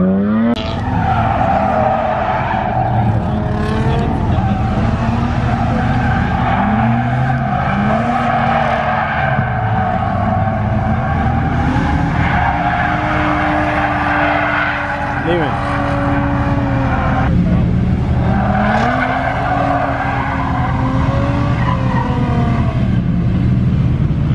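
A car drifting while its driver practices the basics: tires squeal and skid in long wavering screeches over a loud, steady engine drone, close up and continuous, with some talking mixed in.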